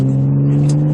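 Straight-piped BMW E36 3.2 six-cylinder idling and revving with a deep, low steady drone, loud and close, no high whine, alone without talk.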